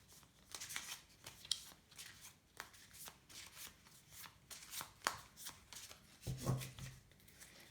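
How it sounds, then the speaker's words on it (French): Lenormand oracle cards are shuffled by hand, quiet riffling and sliding bursts repeating close up with soft taps, faint and alone. "Alors, nous allons mélanger les cartes."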